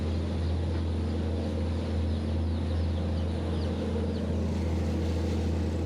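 A small boat mooring on the Amazon on a misty morning, its motor a steady, loud low drone that runs unbroken throughout, with faint bird calls in the background.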